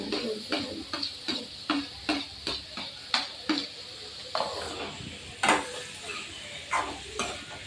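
A spoon scrapes and stirs ridge gourd curry with onions in a frying pan, in a regular series of close knocks over a soft sizzle.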